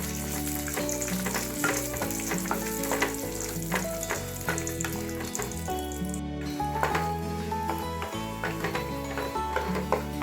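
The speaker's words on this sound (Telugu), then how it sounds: "ఈ నెయ్యి కొంచెం వేడెక్కిన తర్వాత దాంట్లో మనకు కావాల్సిన డ్రై ఫ్రూట్స్ జీడిపప్పు, అలాగే ఈ బాదం పప్పు, ఎండు ద్రాక్ష వేసుకొని కొంచెం దూరగా వేయించుకొని" Cashews, almonds and raisins frying in hot ghee, a steady close sizzle with light stirring clinks running throughout.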